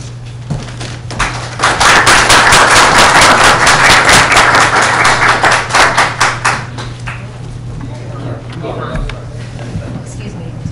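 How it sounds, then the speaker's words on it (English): People in the room at a zoning board public meeting clap in a loud, dense burst that swells for several seconds and then fades out, with a steady low hum underneath. "Let's just hold the claps for the rest of the meeting."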